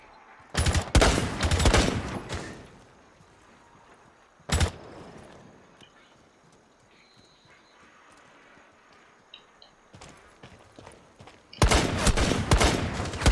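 Automatic gunfire in the Rainbow Six Siege shooter, several loud, rapid bursts separated by quieter stretches, with a single sharp shot between them.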